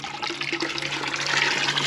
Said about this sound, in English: wring it out until it's just thinking about dripping